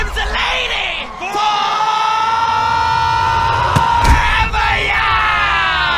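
A crowd yells and whoops loudly and without a break as fans charge onto the court, while an excited commentator shouts over the roar.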